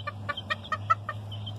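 Young roosters give a short burst of soft, clipped clucks, several quick calls close by, fairly faint over a low steady hum.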